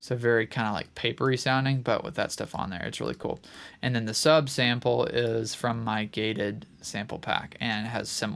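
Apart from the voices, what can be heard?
No everyday noise stands out behind the speech.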